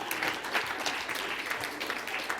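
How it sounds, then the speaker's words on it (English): Quiet round of applause from an audience at an awards event, a soft, distant patter of clapping hands. "A round of applause for that."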